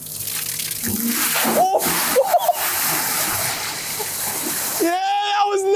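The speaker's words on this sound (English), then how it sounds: "It's like an Orbeez shower." Orbeez water beads and water pour and splash from a toy dump truck scoop in a steady wash, while a voice talks and exclaims over it.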